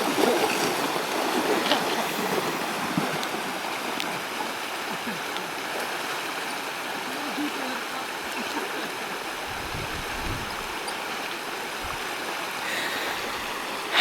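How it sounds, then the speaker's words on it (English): Bike tires push through shallow, warm stream water in Pucon, Chile, giving a continuous close gurgling and splashing wash with a few heavier low splashes near the end. "biking across some warm water in the middle of summer"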